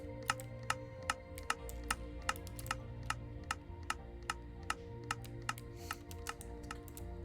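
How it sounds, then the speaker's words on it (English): A Minecraft house power meter ticks steadily, its sharp clicks repeating at a quick, even rhythm over a low humming background, close and fairly quiet. "if you hear that ticking, that is your power meter going"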